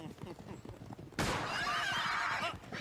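A horse whinnies loudly during a hunt scene in a French TV comedy series. After about a second of busy background, the long, bright neigh bursts in and carries on to the end of the clip.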